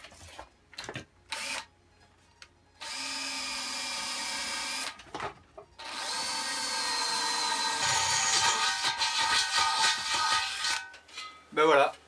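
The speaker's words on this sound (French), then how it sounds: "je vais juste faire un petit trou ici, un trou d'attaque pour la lame de scie sauteuse" A power drill bores a pilot hole through a steel gas bottle for a jigsaw blade, heard as several short bursts and then longer steady whining runs with shifting pitch, close and loud between brief pauses.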